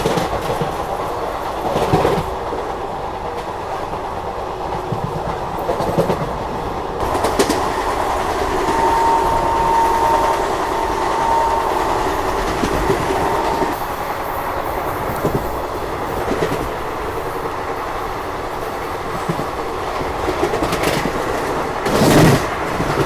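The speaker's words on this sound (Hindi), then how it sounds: "बबीना को भी इस ट्रेन ने ऑलमोस्ट 110 की रफ्तार में स्किप किया और क्या भाग रही गाड़ी।" Shreedham Express running fast at close to 110 km/h, a steady loud roar of wheels on rails with rhythmic clickety-clack beats from the passing wagons throughout, heard from on board with no talk.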